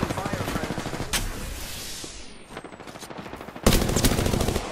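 Automatic weapons fire in Apex Legends. Rapid bursts rattle close and loud, ease off briefly, then return in a heavy, sustained volley at the end.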